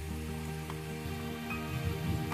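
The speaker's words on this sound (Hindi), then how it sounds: "तो हमें धीरे धीरे ऐसे इन्हें मीडियम फ्लेम पे फ्राई करना है।" Modak frying steadily in oil on a medium flame, a constant soft bubbling sizzle with a low hum underneath, heard close and fairly quiet with no voices.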